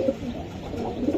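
A racing pigeon gives a brief low coo, close and fairly quiet, a couple of soft throaty notes over light background noise.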